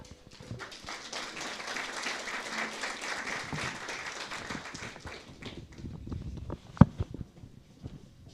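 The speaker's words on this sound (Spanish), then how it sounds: "por favor, con fuertes aplausos." A church congregation at a Sunday service breaks into loud applause welcoming a music group, dense clapping for about five seconds before thinning into scattered claps and low murmur, with one sharp knock near the end.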